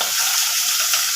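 Shallots and garlic fry in oil for a garlic chutney, producing a loud, dense, continuous close-up sizzle that holds steady for the whole brief moment, with no voices over it.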